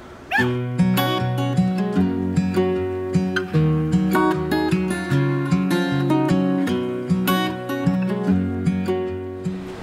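Several puppies at a puppy yoga session in Toronto yip and whimper repeatedly, with high pitched cries overlapping in a busy, continuous rhythm. The sound is close and fairly loud.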